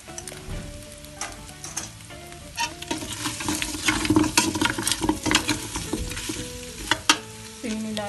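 Tomato paste and chili flakes fry in a pan for a bone-in meat stew, with a loud close sizzle and crackle. Repeated stirring and scraping clatter grows busier toward the middle and ends in a few sharp knocks.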